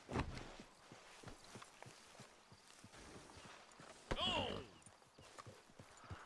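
Horse hooves clip-clop in a steady walking rhythm in the Red Dead Redemption 2 video game, with a brief whinny partway through and voices speaking over the hoofbeats.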